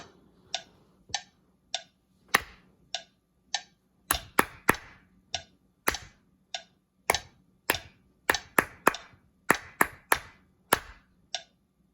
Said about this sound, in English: I'm just going to clap it.